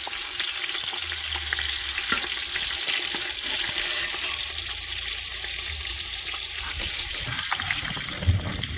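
Fish fries in hot oil in a village kitchen, a steady loud sizzle and crackle with occasional pops and stirring clatter, continuing without pause and with no one talking.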